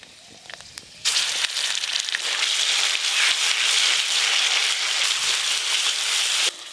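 A ground paste of coriander, fennel and mustard hits hot mustard oil already tempered with five-spice and a dried chilli, bursting into a loud, steady sizzle about a second in that hisses evenly before cutting off near the end.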